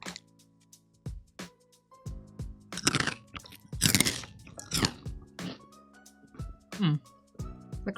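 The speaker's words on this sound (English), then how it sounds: "here's what the Marketo potato chip snacks taste, or will sound like" Someone bites and chews Marketo potato chips marketed as spicy and sweet. The crunches come in irregular bursts and are loud and close, with quiet pauses between them.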